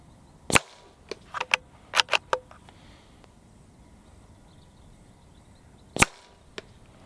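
A CZ 457 Stainless Synthetic .22LR rifle fires at a target on an outdoor range out to 50 meters: a quick cluster of sharp, loud cracks, then a pause before one more shot, with no voices.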